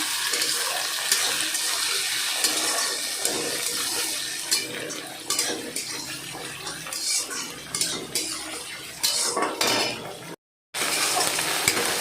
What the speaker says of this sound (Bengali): টমেটো লঙ্কাটাও ভাজা হয়ে গেছে